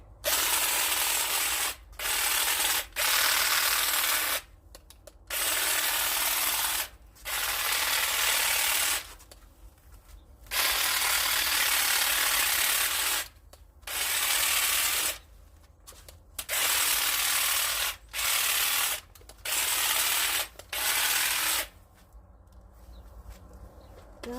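A power trimmer cuts back a mature lavender bush in autumn, loud buzzing bursts of several seconds each separated by short pauses, close and steady, with no speech.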